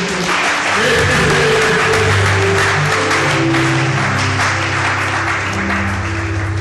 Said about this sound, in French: Acclamez beaucoup les Seigneurs.